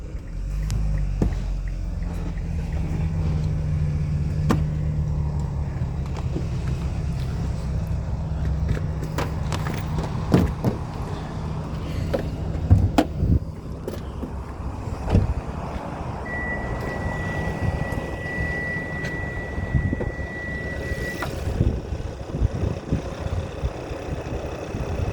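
A 2014 Kia Sportage engine runs at idle, a steady low hum that carries on throughout, with scattered clicks and knocks over it and a brief thin whine partway through.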